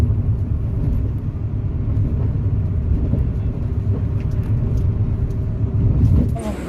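Vehicle driving along a road, heard as a steady low engine and road rumble from inside, continuous and even throughout with no talking.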